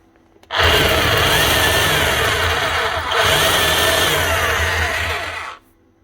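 Makita HR3210C rotary hammer running in plain drill mode, a loud steady motor whir for about five seconds with a brief dip midway, starting and stopping abruptly.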